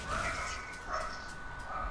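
A tiny six-pound dog gives a few short, yappy barks and whimpers in a room, fairly faint, with no talking over them.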